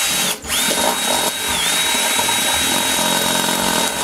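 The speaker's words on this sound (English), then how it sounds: "So we'll drill one right beside it." A power drill whines steadily at high speed, close and loud, enlarging a hole in a heater during repair, briefly dipping once near the start before running on continuously.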